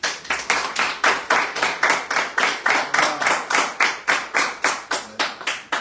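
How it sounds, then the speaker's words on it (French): Rhythmic hand clapping on a French radio show, steady sharp claps repeating about three to four per second, close and loud with no talk over them. "on les aime pour ça et on les applaudit."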